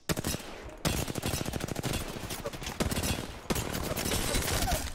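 Rapid automatic gunfire in the battle royale shooter Apex Legends, loud and close, running in dense bursts broken by brief pauses across the whole stretch.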